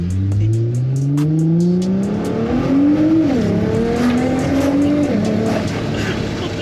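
A Nissan R35 GTR Black Edition, a 405 kW JDM build, revs and accelerates hard in race mode, its loud engine note climbing steadily, dropping at gear changes and climbing again, close and continuous.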